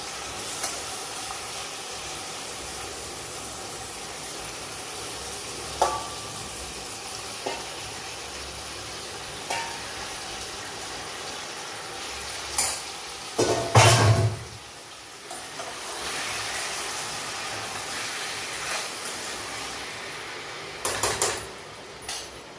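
Mutton frying with onions in a pot, a steady broad sizzle and hiss throughout, broken by a few louder scraping stirs partway through and near the end, with no voices.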